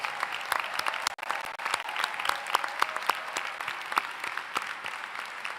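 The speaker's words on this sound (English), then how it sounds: "Another big round of applause." Sustained applause from a large commencement audience at Emory University, honoring the graduates; dense, steady clapping with sharp individual claps standing out, fairly close and even throughout.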